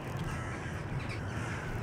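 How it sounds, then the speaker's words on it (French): Crows caw in the video game Jazzpunk, rough harsh calls over a steady noisy ambience, fairly faint and continuous through the brief moment. "Ah non, c'est des corbeaux."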